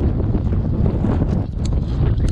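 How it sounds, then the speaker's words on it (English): Loud, steady wind at a lake buffets the microphone, a continuous low rumbling roar with no pauses and no voices. "Sorry about all the noise, but it is windy today."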